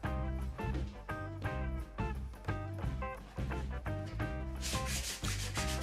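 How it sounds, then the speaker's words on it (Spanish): Sandpaper scrubs along the edges of recycled wood boards for a pet house in quick, regular back-and-forth strokes, close and rasping, with a brighter hiss near the end. "Ahora vamos a darle una pequeña lijada a los cantos"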